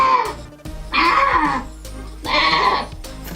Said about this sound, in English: Here's a goat sound.